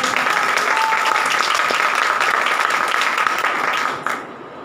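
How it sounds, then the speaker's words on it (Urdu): A church congregation at a Sunday worship service claps loudly in a dense, sustained burst of applause that cuts off abruptly near the end, leaving a quiet room tone. "زوردار تالیاں بجائیں۔"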